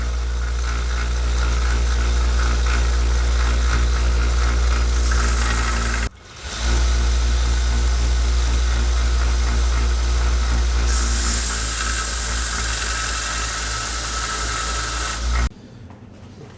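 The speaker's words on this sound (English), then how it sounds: "I got down to 120 grit on the belt grinder there" An electric belt grinder drones loudly and steadily as a knife blade is ground on a 120-grit belt, the hum briefly cutting out once before resuming and then stopping near the end.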